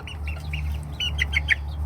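A hatched hen kept with pheasants gives a short run of clucks, several quick bright notes rising in intensity over a low steady background hum.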